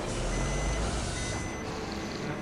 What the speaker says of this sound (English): there's a truck sound!